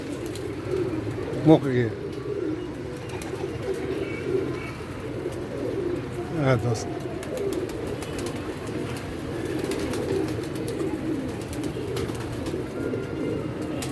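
Pigeons coo in low, repeated throaty bursts against a steady outdoor background, with someone talking briefly over them and a couple of sharper calls standing out near the start.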